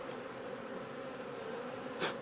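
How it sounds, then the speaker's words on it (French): Honeybees buzz steadily around an opened hive after a queen is introduced to an orphaned colony, a close, continuous drone with one brief louder swell near the end. "j'enlève quelques abeilles qui sont dedans"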